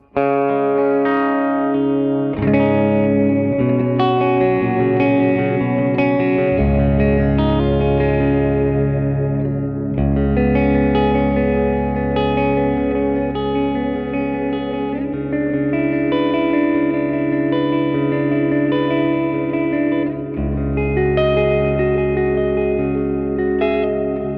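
Electric guitar played through a Victory V40 amplifier on its own, heavily distorted, with added reverb and delay; chugging riffs and sustained chords ring out loud and continuous with no talking.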